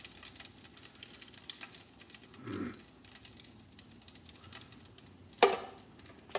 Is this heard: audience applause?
no